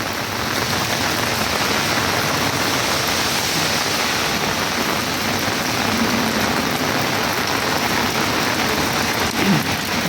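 Heavy rain drums steadily on an umbrella overhead, a dense, unbroken hiss close by with no talking.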